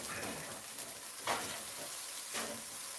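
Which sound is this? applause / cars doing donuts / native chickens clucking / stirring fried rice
stirring fried rice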